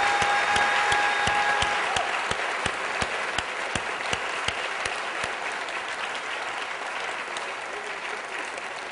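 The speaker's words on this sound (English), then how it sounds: "Let's give them a round of applause" The audience at a Skepticon 4 panel on death applauds the panelists. Dense, steady clapping fills the room, with a few sharper individual claps standing out, and it eases slightly toward the end.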